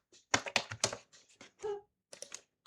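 Computer keyboard typing while writing C# code, a quick burst of close key clicks, a pause, then a shorter cluster of keystrokes.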